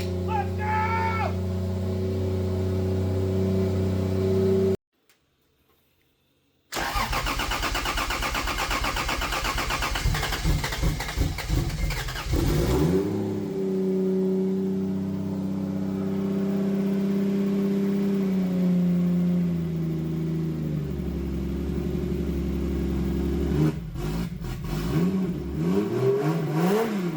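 A Toyota 2JZ engine swapped into a 4Runner cranks and fires on its first start, revving loudly and roughly with a brief cutout before catching again, then settling into a rumbling idle with occasional blips of throttle.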